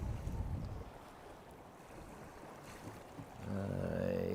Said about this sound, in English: he's motoring straight towards us at the moment.